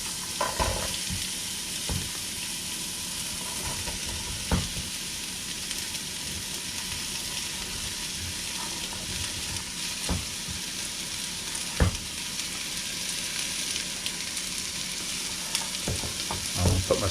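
Chopped onion sizzles and crackles steadily in a hot pan on an induction hob, with occasional sharp clicks and scrapes as it is stirred, no voices.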